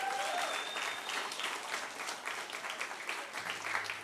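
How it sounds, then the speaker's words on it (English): A school assembly audience applauds an upper-school music ensemble with sustained, fairly distant clapping from many hands that forms an even, continuous roar, heard alone without talk. "Give them a round of applause."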